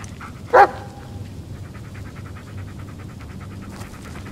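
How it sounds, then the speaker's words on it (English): In the Blair Witch video game, a dog gives one sharp, fairly close bark over a quiet, murmuring outdoor ambience, with faint rhythmic footsteps or rustling afterward. "Good dog."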